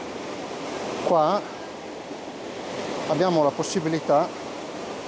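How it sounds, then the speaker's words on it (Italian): A river rushes steadily through a rocky limestone gorge near waterfalls, a broad constant roar filling the background while someone talks over it in Italian. "guardate il fiume come scava la roccia"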